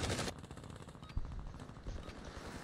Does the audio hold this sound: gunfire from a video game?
yes